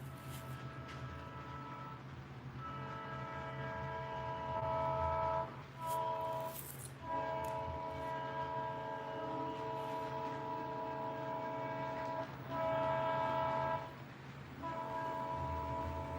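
Southbound train on former B&O trackage in Chillicothe, heard from the East Main Street overpass: a steady horn-like chord of sustained tones with brief breaks, fairly loud and continuous, with no talk.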